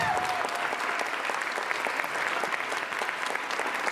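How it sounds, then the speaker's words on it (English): A school sixth grade promotion ceremony audience gives a round of applause, with dense, steady clapping throughout at a moderate distance. "Round of applause."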